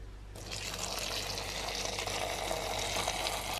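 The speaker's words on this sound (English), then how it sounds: "So I'm just going to pour recently boiled kettle water to cover the peas." Recently boiled kettle water pours steadily over peas in a saucepan, a continuous close splashing rush with bright hiss that starts abruptly and holds at even strength for a few seconds, no voices.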